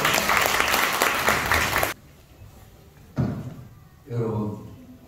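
A big round of applause from a crowd at a Candlelight political school event in Busan, loud and dense for about two seconds, then cutting off abruptly into quiet, followed by a thump and someone speaking.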